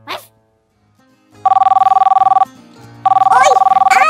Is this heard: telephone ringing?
yes